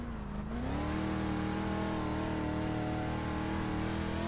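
Dirt track race cars at Lernerville Speedway roar past, a loud sustained engine drone that swells after a brief dip and holds steady, with no talk over it.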